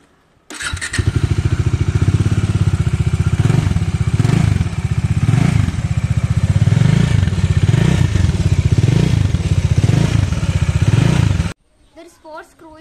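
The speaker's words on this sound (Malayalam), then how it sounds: "അപ്പൊ ആദ്യം തന്നെ നമുക്ക് ഇതിന്റെ എക്സോസ്റ്റ് സൗണ്ട് നോക്കാം." A sports cruiser motorcycle idles close by with a deep, rapid, even exhaust thump, blipping the throttle in a few swells before the engine cuts off, leaving brief faint sounds after.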